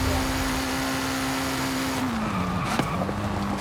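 A Lamborghini engine in a racing video game holds a steady, loud drone that dips in pitch near the end, with a brief sharp click-like noise over the continuous road sound.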